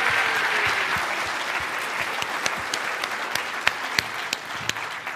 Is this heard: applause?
yes